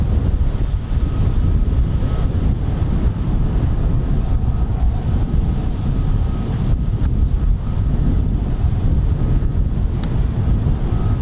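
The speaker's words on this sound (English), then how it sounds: "It is extremely windy" Strong, steady wind buffets the microphone at an RAF airfield where F-35B jets operate, a loud continuous roar of gusts and rumble with no let-up throughout.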